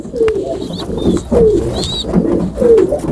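French meat pigeons coo repeatedly in a loft with their squabs, several low throaty coos rising and falling in a steady rhythm, close and fairly loud, with faint chirps above.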